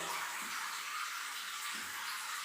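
Water running and splashing steadily at bath time, a broad continuous wash of sound with no voices over it.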